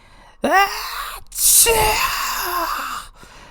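A voice gasps and lets out a loud, drawn-out sneeze-like burst, imitating Spyro the dragon sneezing out an ice stream, followed by a lingering breathy rush.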